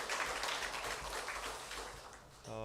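Audience applause for a string ensemble after a worship performance at a university chapel service, steady dense clapping that fills the whole stretch and tapers slightly near the end.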